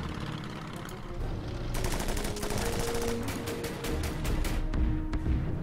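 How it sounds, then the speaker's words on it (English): Rapid machine-gun bursts and gunfire aimed at a Type 98 20mm anti-aircraft gun in the strategy game Order of Battle, loud, dense rattling volleys that start after a short lead-in and keep firing through to the end, with no talk over them. "Up here there's a Type 98 20mm anti-aircraft gun. Let's take a shot at it."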